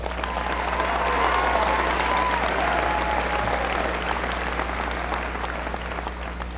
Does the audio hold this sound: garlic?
no